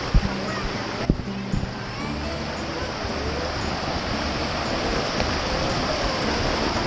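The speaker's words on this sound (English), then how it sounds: "The waterfall is really moving, and it's kind of loud for us even." A loud waterfall gives off a constant, dense roar of rushing water that fills the scene, with a few brief knocks near the start and faint voices under the noise.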